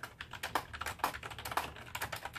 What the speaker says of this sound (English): typing again